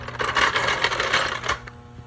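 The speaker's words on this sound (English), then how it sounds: "we're gonna let the jack down before we finish tightening it" A car jack being let down gives off a rapid, clicking metallic ratchet with light rattling, close and distinct, fading out after about a second and a half.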